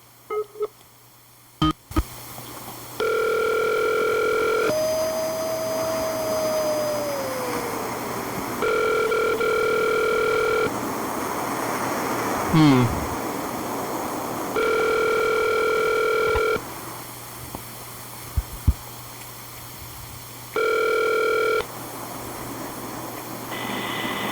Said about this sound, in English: This phone's busy?